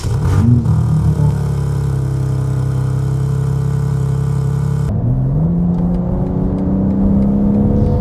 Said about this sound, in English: now it's time to start up the car